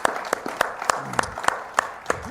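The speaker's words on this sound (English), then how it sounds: "Give him a round of applause." Audience applause for a university president, rhythmic clapping with distinct, evenly spaced strong claps standing out over a softer bed of crowd clapping, moderately close.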